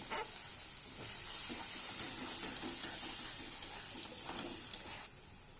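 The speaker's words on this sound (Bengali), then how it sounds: "চিনি অ্যাড করার পর একটু নেড়ে চেড়ে" Spices and sugar are stirred in a pan, a steady close sizzle and hiss with faint scraping under it that drops away near the end.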